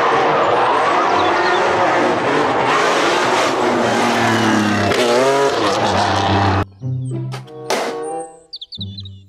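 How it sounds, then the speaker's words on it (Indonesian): A toy race car plays a loud, continuous engine-revving sound effect with tire squeals that cuts off abruptly near the end, followed by a few short electronic chirps. "Mobil balap."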